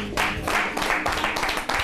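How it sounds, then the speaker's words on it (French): A studio audience applauds on a French comedy variety show, a dense burst of clapping that swells after a brief lull and keeps a steady, close, lively texture throughout. "On va encore applaudir"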